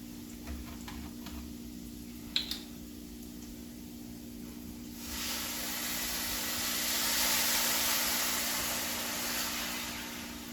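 Chicken chow mein frying in a pan with oil and soy sauce, a faint tick and tap at first, then a steady hissing sizzle swells up and holds, fairly close and without talk.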